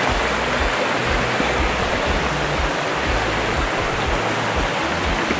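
River stream flowing beside a hiking trail in Japan, a dense, steady rushing roar of water that stays loud and unbroken throughout, with no voices.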